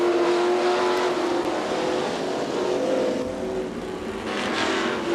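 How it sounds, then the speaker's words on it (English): Dirt track race cars at Gallatin Speedway in Belgrade, Montana roar steadily around the track, engines droning and revving with a continuous loud wash of noise and slight swells as cars pass. "Alan Adams in the 27 has just a few laps left to get around Gary Hill out of Great Falls in the number 6G car."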